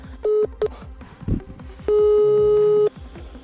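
Telephone tones after the other party hangs up: short steady beeps, then one long sustained tone, loud and close over a fast regular pulsing background, with no speech.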